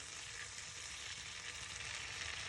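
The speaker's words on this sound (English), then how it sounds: "Put that miso butter in." Miso butter melts in a hot pan with a steady, even sizzle and a soft crackling hiss, close and continuous with no talking.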